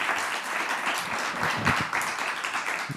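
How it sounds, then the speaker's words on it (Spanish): Applause from a seated audience at a panel discussion after a participant's talk, steady dense clapping held for about three seconds at moderate distance with no speech. "Un aplauso para su intervención."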